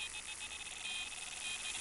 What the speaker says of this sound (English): I wish you could kind of turn the alarms off on them other two rods